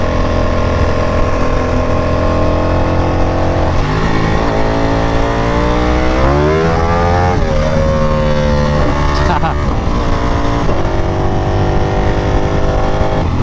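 A Ducati Panigale V4R is ridden on the road, its engine pitch rising and falling through several revs and gear changes. The sound is loud and close, with a steady roar and wind throughout.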